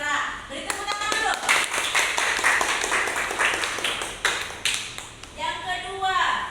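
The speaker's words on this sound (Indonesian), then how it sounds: "Beri tepuk tangan dulu." Students clap together in a classroom to applaud a top-scoring classmate, a steady burst of hand claps with a voice speaking over parts of it.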